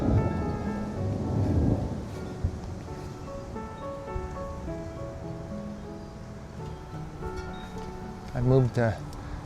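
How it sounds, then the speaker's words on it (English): Steady late-August rain hisses outdoors in a sunflower garden under a low rumble of thunder, while faint background tones sound and a voice speaks briefly near the end. "I think we're in for another round of rain and thunder this time and some lightning."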